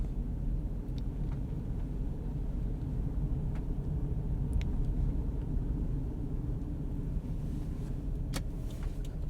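A car driving on roads around Norwich, Connecticut after a snowstorm, heard from inside as a continuous low engine and road rumble with faint ticks and clicks, no talking.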